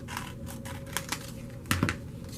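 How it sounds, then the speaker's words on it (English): Scissors snip through folded paper for paper flowers in a few faint, crisp cuts, soft and close, with a slightly stronger double snip near the end. "now we are going to cut a piece of the triangle."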